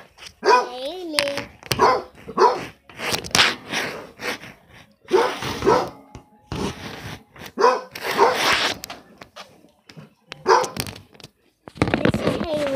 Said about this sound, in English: That's my dog, Hayley.